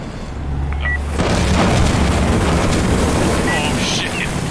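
Air strike rocket explosions in Insurgency Sandstorm, a military shooter game, erupt as a loud, sustained rumbling boom that swells after about a second and rolls on through the rest of the clip.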